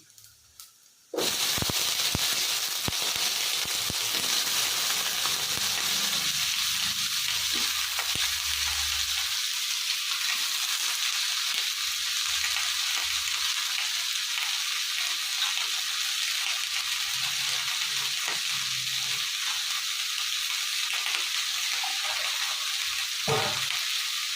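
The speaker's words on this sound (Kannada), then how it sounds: "ಈ ಎಣ್ಣೆಲ್ಲೇ ಫ್ರೈ ಮಾಡ್ಕೊಬೇಕು ಇದನ್ನ ಇದು ಸ್ವಲ್ಪ ಫ್ರೈ ಆಗಲಿ" Chopped cluster beans (guar) tossed into hot oil with tomato start a sudden loud sizzle that crackles continuously for over twenty seconds, with occasional soft stirring knocks underneath.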